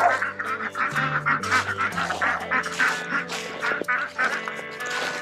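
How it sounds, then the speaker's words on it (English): Ducks quack repeatedly and loudly close by, a busy overlapping chorus of nasal calls with steady rhythm, some honk-like notes mixed in. "Nice thing about ducks."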